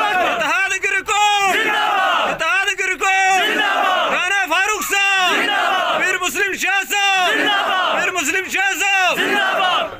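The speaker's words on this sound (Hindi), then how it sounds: "नारे तकबीर, नारे तकबीर, इत्तेहाद गिरकोट, इत्तेहाद गिरकोट, राना फारूक साहब" A political rally crowd chants slogans in loud, rhythmic call-and-response bursts, one voice leading and many answering in repeated waves close by.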